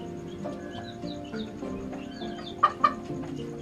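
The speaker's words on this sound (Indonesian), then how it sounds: "Ayam ini berasal dari Turki, di sana banyak yang seperti ini." An ornamental chicken of a breed that came from Turkey clucks softly amid farmyard ambience, with two short, sharper calls standing out near the end over a low background murmur.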